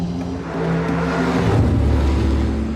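A Jaguar XJ220 with a standard road gearbox pulls away on a race track, its engine note rising steadily as it accelerates, a loud continuous drone close by with no voices over it.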